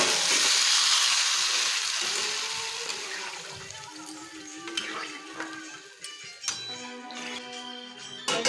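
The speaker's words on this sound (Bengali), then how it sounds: "কষিয়ে নিচ্ছি চিকেনটাকে" Chicken sautéing in a pan gives a loud, close hissing sizzle that fades after a few seconds into quieter frying with occasional utensil clinks and scrapes.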